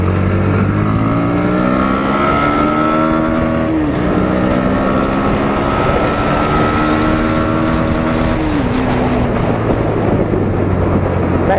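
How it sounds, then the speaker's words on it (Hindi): A Bajaj Pulsar NS 125 motorcycle revs loud and close in second gear toward the limiter, its pitch climbing steadily, easing off briefly and then rising again with a hard, buzzing exhaust note. "बाइक को थोड़ा सा स्ट्रेच करते हैं अब हम लोग।"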